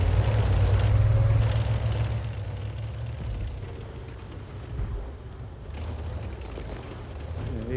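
A deep booming tank gun shot with a rumbling explosion in a tank battle video game, opening loud and then fading into a low mechanical rumble with scattered faint pops.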